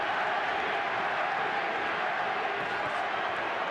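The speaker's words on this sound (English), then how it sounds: "the crowd chant." A boxing arena crowd during the Erik Morales versus Manny Pacquiao rematch keeps up a dense, steady roar of chanting for Pacquiao, loud and continuous from start to finish with no pauses.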